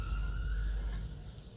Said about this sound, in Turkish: Ambulans geçiyor, ambulans geliyor, dot dot diyor, kornaya basıyor